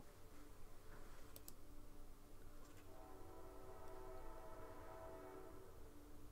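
Distant train rolling past, a low continuous rumble with faint horn tones and a few sharp clicks, steady and fairly quiet throughout with no voices.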